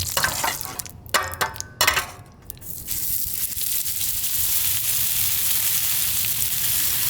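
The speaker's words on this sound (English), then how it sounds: "Listen to that sizzle." Shrimp hit hot oil with a few crackling bursts, then settle into a loud, steady sizzle that continues without pause.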